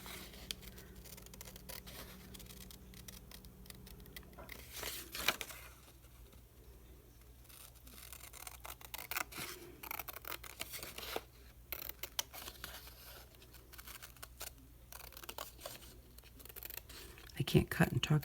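Scissors snip through paper while making a journal page, with short intermittent cuts and rustles at close range alongside a person speaking.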